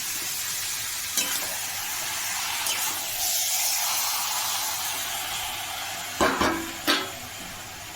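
Marinated chicken sizzles in a kadai over a high flame, a steady broad hiss running throughout with a few sharp spatters and stirring scrapes near the end.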